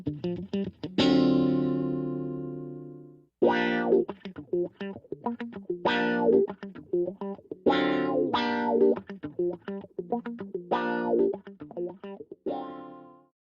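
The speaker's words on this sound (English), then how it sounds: "And now we're going to listen to wah-wah, which is usually used in funk music or pop music" Electric guitar with a funky tone, first played clean with no effect, then through a wah-wah pedal; phrases of plucked notes and chords come in bursts separated by short gaps, loud and alone.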